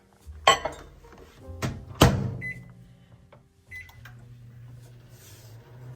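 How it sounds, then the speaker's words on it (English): A microwave oven melts fudge ingredients in a kitchen, with the door thudding shut, button beeps and a low steady hum as it runs. "we are going to melt this in the microwave"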